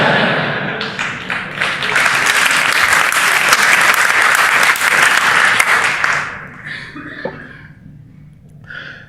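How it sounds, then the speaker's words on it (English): A conference audience at a tech talk breaks into loud, sustained applause for about six seconds, then it thins out into a few scattered claps, coughs and small room noises. "Yeah, you clapped to that."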